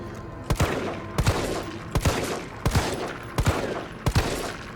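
Short bursts of rapid video game gunfire in Resident Evil 3 repeat about every three-quarters of a second over a constant roaring background, loud and close.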